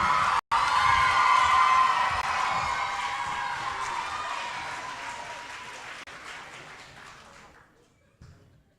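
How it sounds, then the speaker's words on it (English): Audience applause and cheering fill a school spelling bee hall, loud and sustained at first, then slowly thinning out and fading toward the end. "Let's give another round of applause to these two."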